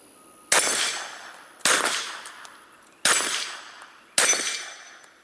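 Four suppressed .45 shots from a Glock 30 fitted with a short Pilum M suppressor, each a sharp loud crack with a short decaying tail, spaced about a second apart with no talking.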